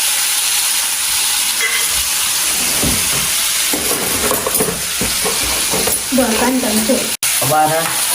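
Cumin, asafoetida and onion fry loudly in a pan with a constant close hiss and sizzle, while scrapes and stirring clatter rise through the middle, with brief muffled speech near the end.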